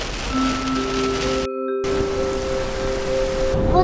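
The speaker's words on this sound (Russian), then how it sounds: "Просто заехали в местность, где тучи, где дождь идет." Rain falling in the video game Granny, a loud, steady hiss of downpour with sustained tonal hums layered over it and a sudden brief dropout midway, with no talking.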